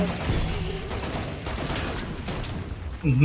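Dense, continuous gunfire in the zombie shooter Killing Floor 2, rapid overlapping shots forming a loud, steady barrage that ends with a heavier burst, while a voice talks faintly underneath.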